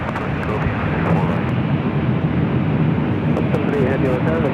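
A Delta Airlines Boeing 737-900ER jet comes in to land at LAX, a loud, steady, broad engine roar filling the whole stretch with no break.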